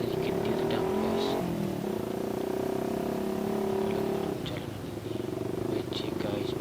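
A motorcycle's loud exhaust rumbles continuously during a night ride through town in Ambon, a close, steady engine drone that dips briefly in the middle. A rider talks over it.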